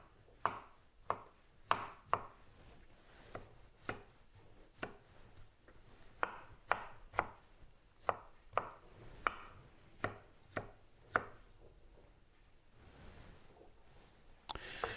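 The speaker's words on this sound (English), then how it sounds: "I have another piece of stalk here that I'm going to go ahead and cut up as well." Knife chopping through a leftover cauliflower stalk on a board, a steady run of sharp, evenly spaced cuts close by with brief pauses, no talk.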